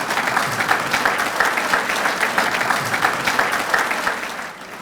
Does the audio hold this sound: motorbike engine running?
no